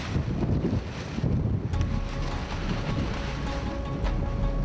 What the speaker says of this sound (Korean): 갑자기 거센 바람이 불어오기 시작했다.